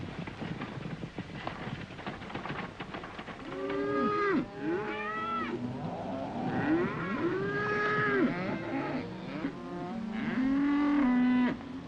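A herd of cattle in a desert setting lows repeatedly, several deep, drawn-out moos overlapping from nearby and mid-distance, with faint hoof and movement noise behind them.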